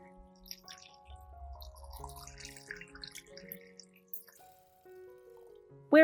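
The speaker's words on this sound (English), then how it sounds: "Rinse the shells." Tangerine peels rinsed under water, with soft dripping and trickling, quiet and intermittent, over gentle background music, ending in a brief louder splash.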